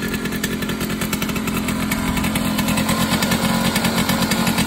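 A 1967 Hercules Saxonette Supermatic 222 TS two-stroke moped engine running at high revs, a loud, buzzing, steady drone held close up with a fast pulsing rattle throughout.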